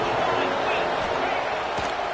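A packed stadium crowd roars without pause in an NCAA 26 college football video game between Minnesota and Ohio State, a dense, loud wall of cheering with a commentator's voice running over it.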